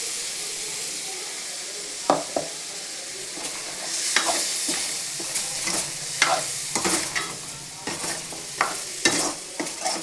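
Ground coconut masala is stirred into mutton gravy in a pan, the spoon scraping and clacking at irregular intervals over a steady sizzle and hiss.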